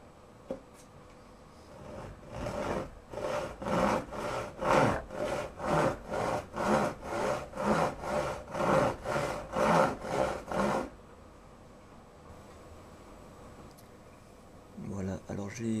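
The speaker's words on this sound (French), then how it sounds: "Alors j'ai donc coupé cette petite planche." A hand saw cuts through a small wooden board in about fifteen rhythmic back-and-forth strokes, close and distinct, followed by quiet and brief rustling.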